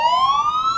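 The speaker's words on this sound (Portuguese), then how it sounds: "Vou mandar soltar a sirene para dar falar desse assunto." A loud rising emergency siren wails steadily and close by, its single pitch sweeping upward through the whole short burst with no other sound.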